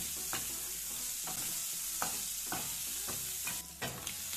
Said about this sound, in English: Get our oil hot and shrimp in. We'll cook it about a quarter of the way through.